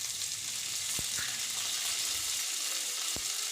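Curry leaves crackle and sizzle in hot oil along with broken dried and green chillies, a steady close frying hiss broken by a couple of sharp pops.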